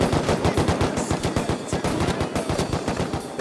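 Rapid automatic gunfire rattles in the survival video game Rust, a dense, loud, evenly spaced burst of shots running continuously and close, with no talk over it.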